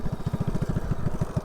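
A small mini bike engine, run with J-B Weld used as a head gasket, idles with a fast, steady low putter, near and fairly loud throughout.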